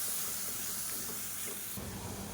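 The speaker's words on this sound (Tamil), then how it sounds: "மீடியமான ஃப்ளேமில் வதக்கிக்கலாம்." Chicken gravy masala with curd sautés in a pan over a medium flame, giving a steady, close, dense hiss and sizzle that grows slightly louder and rougher toward the end, with no voices.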